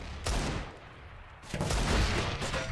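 Grenade blasts in the game Counter-Strike on the Mirage map during a professional match, two loud booming bursts with rumbling tails, separated by a brief lull.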